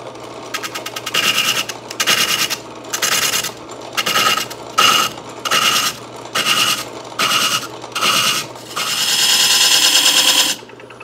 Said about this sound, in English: I'll put a chisel up against there and just gradually, very slowly, work this down so that it's concentric